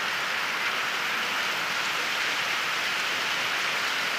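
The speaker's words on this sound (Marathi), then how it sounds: "हे बघा जोरात पावळे चालू झाले" Heavy monsoon rain pours steadily at the start of paddy sowing in June, a dense even hiss of drops on surfaces with no voices.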